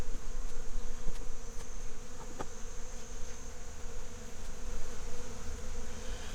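Honey bees drone steadily around an open beehive, a dense continuous buzz of many insects close by, with no voices.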